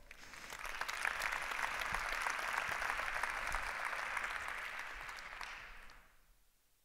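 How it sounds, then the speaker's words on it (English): Conference audience applause for a speaker at an event on the European Green Deal and circularity, sustained clapping from many people that swells quickly, holds evenly for several seconds, then tapers off near the end. "Let's give him a hand of applause."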